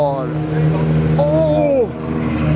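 A Ferrari F12 drives past at an exotic car gathering. Its engine hums steadily, then swells and drops in pitch as it passes close by, while someone talks excitedly over it.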